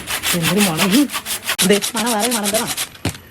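Firewood being cut into small pieces for a wood-burning stove, heard as rapid, rhythmic rasping saw strokes with a wavering squeal, loud and close, ending in a sharp knock.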